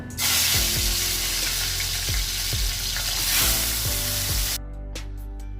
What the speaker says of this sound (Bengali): এখন আমি মাছের মাথাগুলো ভেজে নেব।